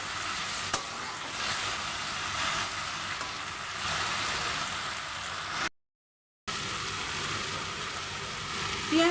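Raw onion stirred and frying in a pan, a steady close sizzle with scraping stir strokes running throughout, broken by one brief silent gap.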